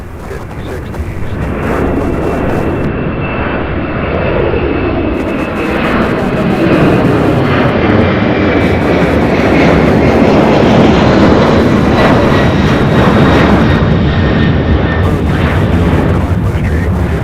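A UPS heavy freighter jet passing at an airport, a loud, sustained roaring rumble with a rising and falling whine as it goes by, filling the whole scene, with a voice speaking faintly underneath.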